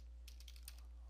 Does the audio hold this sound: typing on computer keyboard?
yes